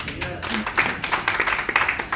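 An audience claps at a motivational speech event, producing a run of quick, uneven hand claps that build after a brief pause, close and moderately loud amid murmuring voices.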